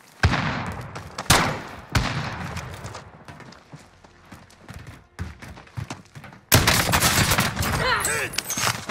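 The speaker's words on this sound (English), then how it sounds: "I'm under fire." Loud video game gunfire crackles in rapid, overlapping bursts and volleys, with brief pauses between them before a heavy, sustained barrage near the end.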